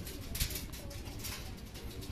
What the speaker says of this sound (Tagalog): So tignan-tignan muna natin yung mga ibon natin.